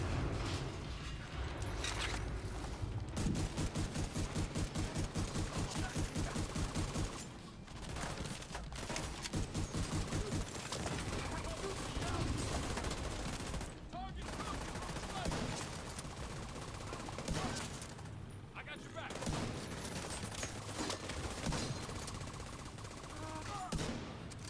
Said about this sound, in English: It's a fully automatic shotgun